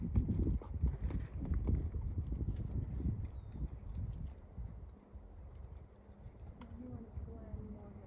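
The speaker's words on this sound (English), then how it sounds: "So that is the horse Mojave, the one who's the Lovelace horse rescue horse." Horse hooves clip-clop on a trail during the Deadwood 55-mile endurance ride, a steady close rhythm under wind noise and people talking nearby.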